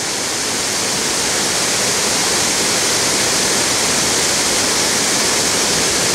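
A waterfall pours into a lake, giving a steady, loud, broadband roar of rushing water that holds constant throughout with no voices.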